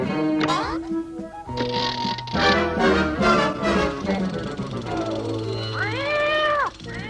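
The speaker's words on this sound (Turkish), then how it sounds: "Şimdi onu yakalamak için mekanik kediyi kullanacağız." Meowing from a mechanical cat in an old Richie Rich cartoon, several drawn-out cartoon meows with a rising and falling wail near the end, mixed with voices and music.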